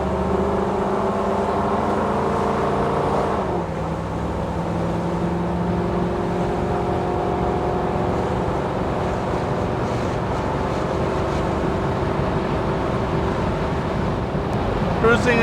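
A 1956 Dual Ghia convertible cruising at about 75 on a farm road, heard as a steady, unbroken roar of engine, tyres and rushing wind throughout.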